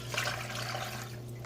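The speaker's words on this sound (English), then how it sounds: "Into this I'm going to add another cup of water." Cup of water poured into a cooking pot while making pineapple glazed ham ribs, a brief continuous splashing gush over a low steady hum, fairly quiet.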